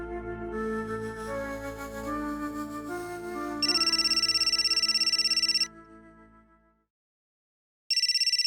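A telephone rings during a family drama: a melodic electronic ringtone plays first, then a bright, insistent warbling ring sounds in two bursts separated by a short silence, close and clear, with no speech.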